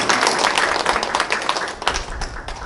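Audience clapping at a launch ceremony for a Koryo-saram migration anniversary committee in Gwangju, a dense round of applause with distinct sharp individual claps poking out, fairly close and lively, with no speech over it.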